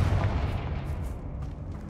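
Confringo blasting curse explosion in Hogwarts Legacy, a deep booming blast at the start that rumbles and fades over a couple of seconds under steady game ambience.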